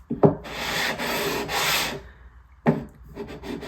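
Sandpaper rubs along the wooden neck of a Ramirez classical guitar in long back-and-forth strokes, close and scratchy, with a couple of soft knocks between passes.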